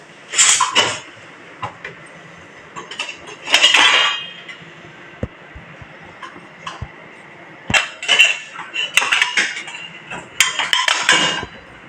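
Washed dishes and metal vessels clink and clatter in several short bursts from a vessel-cleaning machine, with quiet pauses between the handling sounds.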